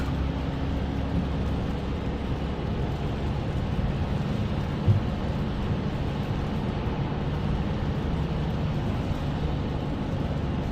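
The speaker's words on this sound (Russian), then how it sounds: "Дождик." Steady rain drumming on a car driving on a European highway from Germany to Prague, a dense continuous wash of noise mixed with low road rumble, no voices.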